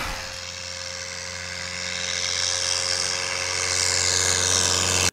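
Small propeller planes fly in to a flower farm in Elk Point, South Dakota, a steady droning engine hum that builds slightly louder over the clip, with no talking.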